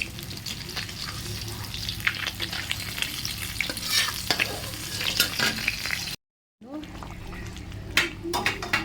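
Fish curry bubbling and frying in a pan, a dense, loud crackling sizzle with clicks from stirring, cut by a brief silent gap before the bubbling resumes, with a voice faintly present.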